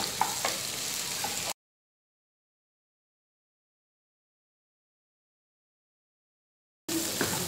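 Onions sizzle in a pan for a Gujarati aloo gobi potato-cauliflower curry, a close, soft, steady frying hiss with a few light stirring clicks, cut off by a long stretch of silence before the sizzling returns.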